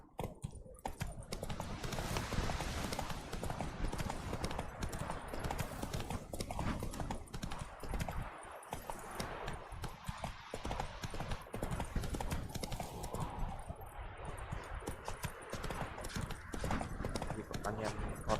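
Geralt's horse Roach gallops in The Witcher 3: Wild Hunt, a dense, continuous drumming of hooves close up with game ambience, while a voice talks over it.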